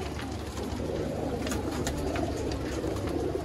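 Pigeons coo softly in low, throaty murmurs over a constant background hiss, fairly close but not loud.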